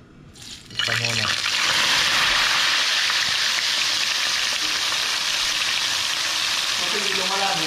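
Tilapia dropped into hot oil sets off a sudden loud sizzle that settles into a steady, crackling fry and runs on continuously, with faint talk beneath it.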